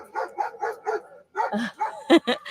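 A dog barks at a passing boat in a quick series of sharp yaps, several in a row, fairly close, with a few higher whiny yips mixed in toward the end.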